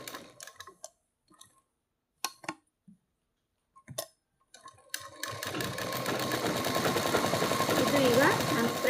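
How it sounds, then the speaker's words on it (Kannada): A sewing machine stitching a blouse front piece to its lining, starting with a few short clicks and bursts, then running steadily and loudly for the last few seconds. "ಇದು ಈಗ ನಾನು ಫ್ರಂಟ್ ಪೀಸನ್ನು ಲೈನಿಂಗ್ ಜೊತೆ ಅಟ್ಯಾಚ್ ಮಾಡ್ತಾ ಇದ್ದೀನಿ."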